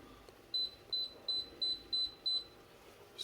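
A kitchen timer being set to 15 minutes gives six short, evenly spaced electronic beeps, close and clear over a quiet room hum, with no talking.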